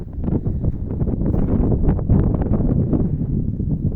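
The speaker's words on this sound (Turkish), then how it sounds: "Çok güzel bir esinti var." A breeze blows over greening village farm fields, a steady, full rush of wind buffeting the microphone for the whole stretch with no other clear sounds.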